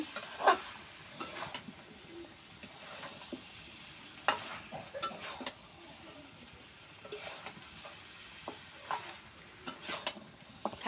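Pumpkin sautés in a pan with a steady soft sizzle, broken by repeated spatula scrapes and clinks against the pan, close and continuous throughout.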